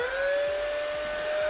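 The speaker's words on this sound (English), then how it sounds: "Or you could just pull out this tiny 2-in-1 vacuum cleaner." A tiny 2-in-1 handheld vacuum cleaner runs steadily at close range, a continuous high motor whine holding a level pitch that creeps slightly upward, with no talk over it.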